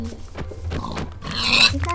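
Pig grunts from Minecraft, a few short low snorts over game background sounds, with talk mixed in.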